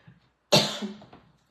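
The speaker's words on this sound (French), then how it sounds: "excusez, je vais tousser" A single close, sharp cough bursts out after a brief quiet and trails off, followed by a faint breathy tail; no talk during it.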